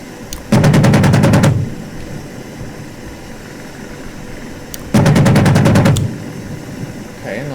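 Two loud bursts of rapid automatic cannon fire from an AH-64D Apache's gun in the DCS flight simulator, each about a second long, over a steady rotor and engine drone.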